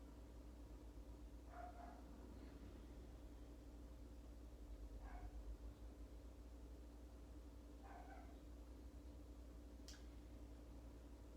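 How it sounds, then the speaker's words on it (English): A dog barks outside, distant and faint, in a few short separate bursts spread over a low steady indoor hum. "He's still barking outside."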